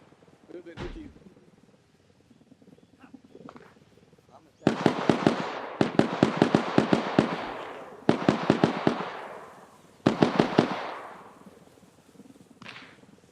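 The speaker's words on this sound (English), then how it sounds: "Dude, I'm hearing guns." Gunfire in a military simulation video game cracks out in several clustered bursts of quick shots separated by short pauses, fairly loud, with a single earlier thud and quieter background.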